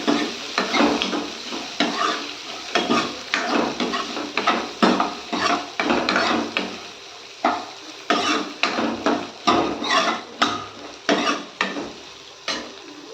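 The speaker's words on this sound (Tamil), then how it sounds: "தேங்காய் போட்டு அந்த ஹீட்லேயே கலந்து விட்டுக்கணும்" Cut coconut pieces stirred in a hot pan with the stove off, a steady run of rhythmic scraping spoon strokes against the metal over a faint sizzle, close and clear with no voices.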